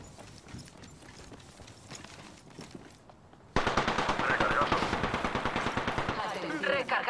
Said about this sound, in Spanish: Oye, me están disparando.